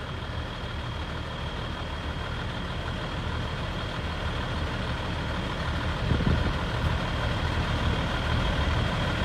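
Heavy tow truck engine labouring steadily while pulling a refrigerated semi trailer stuck at a road underpass, a continuous low rumble that swells slightly in the last few seconds, with no talking.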